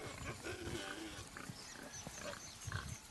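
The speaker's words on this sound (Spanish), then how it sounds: "Los jabalíes indios pastan cerca" Indian wild boars grazing near water in the wild, with low grunting snorts and snuffling from the animals, faint and fairly distant against a soft outdoor background.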